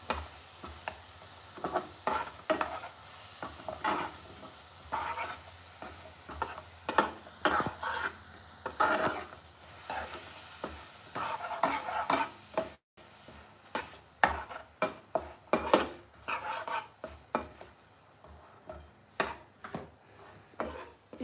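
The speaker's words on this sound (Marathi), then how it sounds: "आता आपण ते चमच्याने मिक्स करून घेऊ सगळं आता याचा पाक होऊस आपण याला हलवत राहू सारखं" A spoon knocks and scrapes around a pan of jaggery syrup cooking for puffed-rice laddoos, a steady irregular clatter of taps over a soft bubbling sizzle, close by and without voices.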